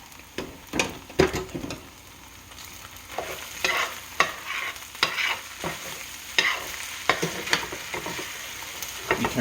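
A stewed meat mix is stirred in a hot frying pan, giving a continuous sizzle broken by irregular scraping strokes and sharp clanks of the utensil against the pan, close up with no talking.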